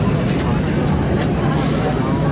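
A T28 aircraft flying at the ILA 2018 Berlin air show, a loud continuous engine roar filling the whole moment while a commentator talks over it.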